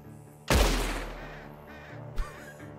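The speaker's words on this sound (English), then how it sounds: "Look at the birds, Arthur." Birds caw in the video game Red Dead Redemption 2, the harsh calls following a sudden loud sharp blast that fades slowly, with one more short crack near the end.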